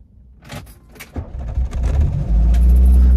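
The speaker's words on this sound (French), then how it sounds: "Est-ce que selon toi, elle démarre la voiture?" A few clicks and mechanical clunks, then a car engine cranks and catches into a loud, steady low rumble.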